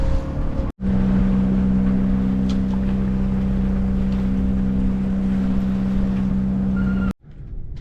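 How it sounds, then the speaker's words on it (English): A sailboat's motor pushed hard at high power, a loud, steady droning hum that runs unbroken for several seconds between brief cut-outs. "I'm really pushing the motor to get there as fast as possible"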